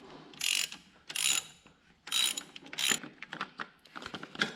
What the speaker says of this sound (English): So I got this ratchet, and I'm gonna take her off.